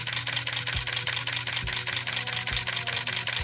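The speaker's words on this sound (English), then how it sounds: "hold the shutter down, and the camera will just keep firing" A Canon SL3/SL2 DSLR fires its shutter in continuous burst mode, a rapid, even run of crisp mechanical clacks, about eleven per second, close and loud with no talking.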